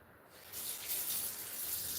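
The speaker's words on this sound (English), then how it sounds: "Let me rinse." A kitchen tap runs while hands are rinsed after cutting onions. The water gushes in steadily after a brief quiet start and continues as a close, even splashing stream.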